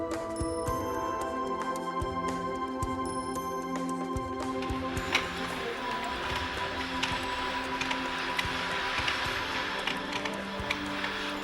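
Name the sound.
primitive silk warp winding machine running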